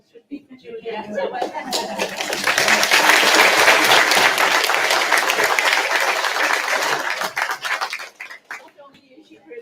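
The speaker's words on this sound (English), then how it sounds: "I think the round of applause should be for Juliet." An audience at a volunteer awards event applauds a pianist, loud sustained clapping that builds, peaks and gradually tapers, with a few chuckles mixed in.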